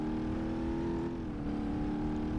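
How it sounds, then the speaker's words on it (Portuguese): A rear-engined Lancia revs in the BeamNG Drive driving game, its steady droning engine note holding loud and close throughout with no voices over it. "Mas esse aqui é o motor traseiro."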